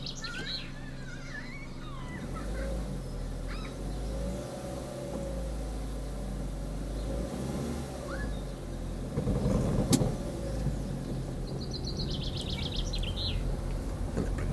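Car pulling away in first gear during a driving lesson, with a steady low engine hum that rises briefly in a louder surge before settling again, plus faint birdsong outside.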